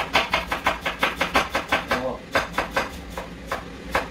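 An onion being chopped into small cubes in a home kitchen, a rapid, steady run of knife strikes on a board that slows and spaces out toward the end, close and fairly loud.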